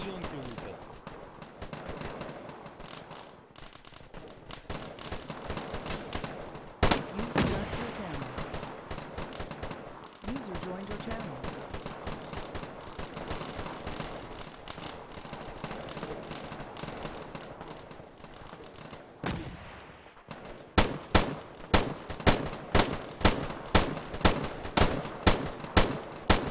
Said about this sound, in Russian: А по мне стреляют, я не могу выстрелить.